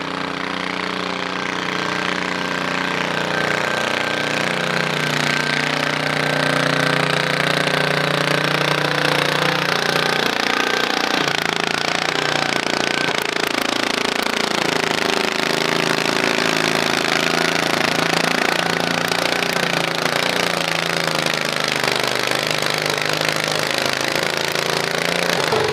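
A stock garden tractor in the Stock 16 class strains through a tractor pull. Its engine roars loud and continuous for the whole pass, with a pulsing, rising mechanical drone.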